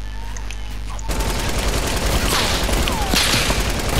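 Dense bursts of automatic gunfire from a Fortnite match, starting abruptly after a second of quiet game ambience and rattling on loudly to the end.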